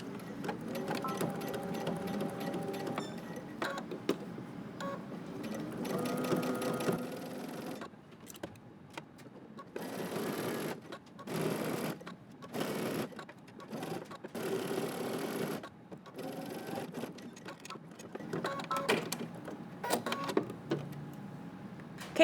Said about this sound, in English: now we're gonna stitch around using 5/8 of an inch seam allowance